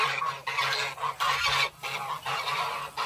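A goose on a muddy farm honks repeatedly in a steady run of nasal calls, fairly close and alone with no talking.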